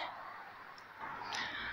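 Pet birds in England give a couple of harsh, crow-like caws that rise over a faint outdoor hiss, brief and moderately close, with no talking.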